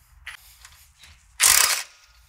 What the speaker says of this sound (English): take your 18mm socket and loosen the bolt for the upper control arm to the spindle